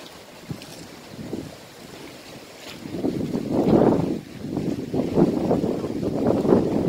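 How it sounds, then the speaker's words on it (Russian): Wind buffets the microphone while choppy waves slap and splash against the shore of a windy liman estuary near Ovidiopol, Odesa region, with surges of surf building louder in the second half. "За счет того, что сегодня все-таки ветер, посмотрите, какие волны в лимане"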